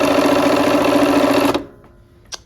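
A sewing machine runs steadily while stitching a pieced quilt block, a dense mechanical whir lasting about a second and a half before stopping abruptly, followed by faint handling noise and a brief click.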